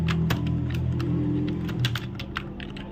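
Text is typed on a computer keyboard as a close, irregular run of crisp key clicks, with occasional quicker bursts and no talking.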